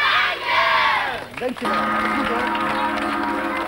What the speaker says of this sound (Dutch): Ik wil een keihard applaus voor deze...